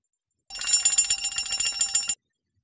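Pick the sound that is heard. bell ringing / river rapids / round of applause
bell ringing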